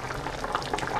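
Pot of beans boiling on the stove for refried beans, soft irregular bubbling and gurgling at low volume, close by and without talking.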